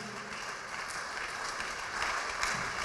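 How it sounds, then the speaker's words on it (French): A church congregation at a worship service applauding and cheering loudly, a dense continuous wash of clapping from a large crowd that swells slightly toward the end, with no clear speech. "Acclame très très très fort Jésus."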